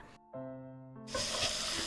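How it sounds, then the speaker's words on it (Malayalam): A short sustained tone gives way to a burst of steady hissing as chicken pieces fry in hot oil in a pan over a medium-low flame, close by. "ഒരു 4 മിനിറ്റ് 2 സൈഡ് നമുക്കൊരു മീഡിയം ലോ ഫ്ലെയിമിൽ വെച്ചിട്ടൊന്ന് വറുത്തെടുക്കാം"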